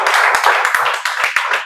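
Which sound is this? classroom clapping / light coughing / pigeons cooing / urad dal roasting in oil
classroom clapping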